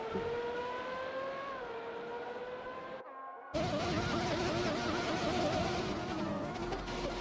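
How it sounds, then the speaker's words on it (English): A Ferrari Formula 1 car in a racing video game, its high-pitched engine screaming steadily, briefly cutting out, then returning louder and harsher as the car powers past. "it's just good and amazing to hear the car, Dario, in a Ferrari."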